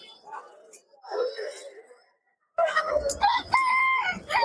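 Native chickens clucking and crowing at a rural poultry market, close and loud, with nearby voices talking in between and over the birds.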